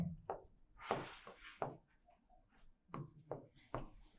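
Chalk or marker strokes on a board during a lesson on Arabic grammar, heard as several short, scratchy bursts spread through the moment, fairly close, with no speech over them.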